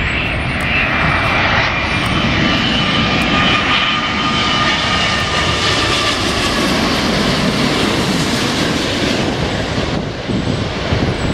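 A heavy Philippine Airlines jet passes near an airport, its engines producing a loud, continuous broadband roar that holds steady throughout with no talk over it.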